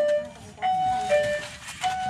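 A whistle muffler fitted to the exhaust of a Mitsubishi Canter truck with a 4M51 engine and split manifold gives off thin, steady whistling tones in several short bursts over a low idle rumble, with no talking.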